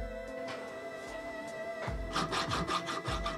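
A hand file works a drilled round hole into a square opening in a metal Higo-style sword guard, producing close, rhythmic rasping strokes that grow quicker and more insistent in the second half.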